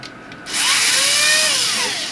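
Power drill unscrewing screws from a toner cartridge, its motor whining up loudly and steadily after a brief quiet moment, close and alone with no talk.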